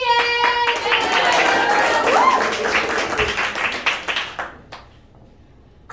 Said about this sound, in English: I get clapped for that?